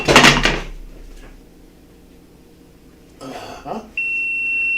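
A loud bump and rustle, then a sustained high electronic beep starts and holds steadily to the end, close by.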